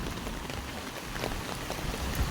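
Steady rain patters on a surface, a constant hiss with scattered droplet taps and no voices.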